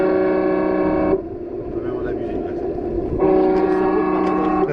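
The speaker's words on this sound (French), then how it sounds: "Là, c'est un klaxon de bateau même qu'on a mis dans les, dans les paramètres" Boat horn sound effect from the sound module of a fully upgraded metal TRX-4 RC crawler truck, a loud sustained multi-tone blast heard twice with a short gap between, while people talk.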